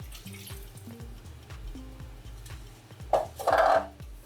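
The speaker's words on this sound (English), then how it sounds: "we're also gonna pour in that 1/4 cup of water" A quarter cup of water is poured into a pan of peaches on a stovetop burner for chia jam, a soft watery trickle with a brief louder splash near the end, set against low kitchen clatter.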